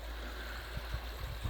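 The Saline River at a trailhead off Highway 7, running high after days of rain: a steady, continuous rush of flowing water close by, with no voices.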